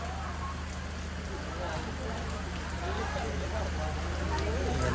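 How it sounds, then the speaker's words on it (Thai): Heavy rain pours down in a steady, loud, unbroken hiss that fills the whole stretch, with voices faintly underneath. "แต่ฝนหึมหำลงมาเนี่ย"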